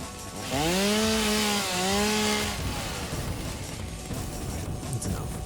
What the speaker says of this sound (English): I apologize for this chainsaw intermission.